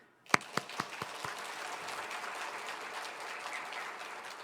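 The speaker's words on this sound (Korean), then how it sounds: "박수." A few distinct claps lead into a church congregation's sustained applause during a Sunday sermon, which keeps going at an even level.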